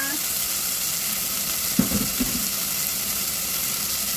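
Garlic and onion sautéing in a hot pan for miswa with patola, a steady loud sizzle and frying hiss filling the whole stretch, with a few soft spatula knocks in the middle and brief speech.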